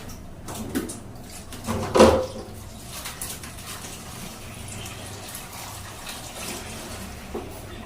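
Water draining and being siphoned from a large monster-fish aquarium during tank cleaning, a continuous low gurgling flow with a louder splashing burst early on.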